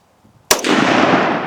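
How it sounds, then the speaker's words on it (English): A single sharp report from a DPMS Sportical .308 rifle, loud and close, followed by a long rolling echo that fades slowly. "And that was the first shot."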